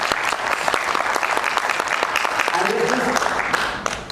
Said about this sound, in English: how about a huge round of applause for each one of you for your own self